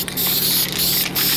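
Aerosol spray paint can hissing steadily onto a car during home DIY color-match painting, a continuous close broadband spray with brief pauses, no talking.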